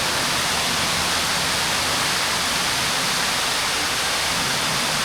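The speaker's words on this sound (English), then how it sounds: "there's a waterfall on the other side of this room" Inside a cave, a waterfall on the far side of the room fills the space with a constant, dense roar of rushing water that stays even and unbroken throughout.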